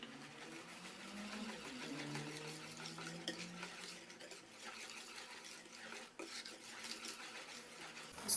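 Cake batter for a banana cake being stirred in a bowl, a steady soft scraping and slapping that runs continuously, close and fairly quiet, with occasional light clinks of the utensil against the bowl.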